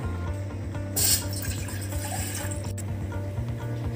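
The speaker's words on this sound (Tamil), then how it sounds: "ஒரு கப் தண்ணி போட போகிறேன்" Water runs in a steady stream as a cup of water is poured into a pan on a stove, with a brief louder splash, over a low humming background.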